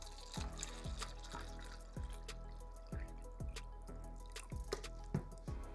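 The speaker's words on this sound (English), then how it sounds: "And we're gonna place water into our third cup." Water dripping and trickling into a cup, a series of distinct, regular drops about every second, close and fairly quiet with no talk.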